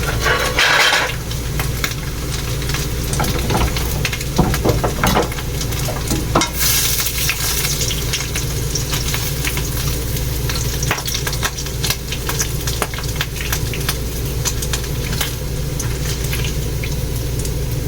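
Pork frying in a pan of cooking oil, a steady close sizzle and crackle running throughout with occasional clinks of a utensil or pan.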